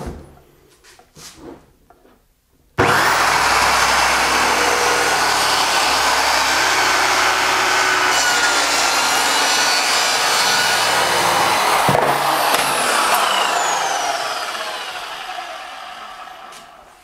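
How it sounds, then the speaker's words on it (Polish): A power saw cuts through an interior house door, starting abruptly after a few quiet knocks and holding a loud, steady whining drone for over ten seconds before slowly winding down. "Dobra, biorę piłę,"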